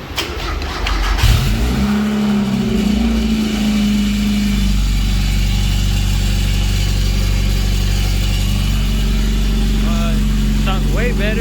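Mazda Miata MX-5 engine with open aftermarket headers fires up after a brief crank, then settles into a loud, steady, rumbling idle close by, with a voice speaking over it briefly.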